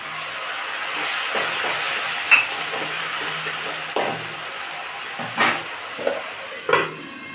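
Spice paste with crushed garlic and onion fries in a pan for egg biryani, giving a steady hiss and sizzle broken by several sharp spatters and stirring scrapes.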